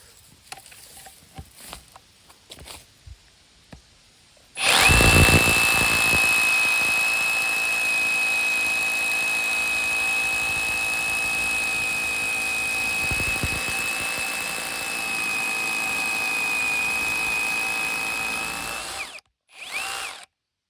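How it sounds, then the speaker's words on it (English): A Bauer cordless 1-inch SDS-plus drill in hammer mode bores into concrete in one long, loud continuous run of about fifteen seconds, a steady high whine over rapid hammering, preceded by handling noises and ending abruptly. "We got it in hammer mode. And I got a bit on here. And we're gonna drill a little piece in this concrete."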